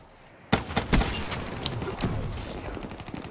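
Rapid bursts of gunfire from a gun in Black Ops 3, several sharp loud shots opening the clip and followed by a steady, busy stream of further firing and impacts.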